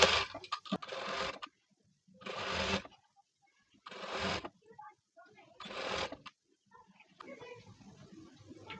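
A sewing machine stitches a blouse with double piping in several short runs of roughly a second each, separated by quiet pauses, heard up close.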